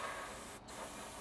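Spray can or airbrush hissing steadily as paint is sprayed evenly over a scale model, a continuous close broadband hiss with one brief dip partway through.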